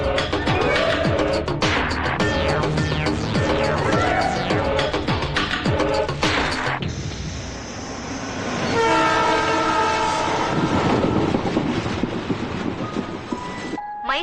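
A passenger train arriving from Mysore pulls in at platform 6 of a station. A loud, rumbling clatter of wheels and carriages builds, then a long blaring horn sounds over the continuing rail noise.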